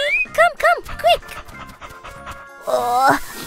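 A cartoon puppy pants in quick, bright, rising gasps, then a short whiny vocal burst at the end, close and clear with no talk over it.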